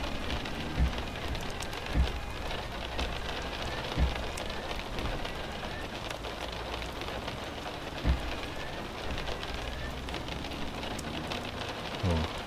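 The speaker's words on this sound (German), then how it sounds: "Na, jetzt hört der Regen fast auf." Rain in Euro Truck Simulator 2 patters steadily on the truck, a soft continuous hiss of drops with occasional heavier taps, fairly quiet and with no voices.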